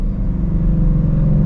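A Shelby Mustang's engine rumbles close and loud in a steady, deep idle with a low throb, no voices over it.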